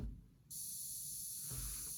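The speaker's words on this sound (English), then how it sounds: "What that is just white noise" A white noise sweep in a blues beat production, a steady bright hiss that switches on sharply and then holds fairly constant with some filtering, alone with no voices.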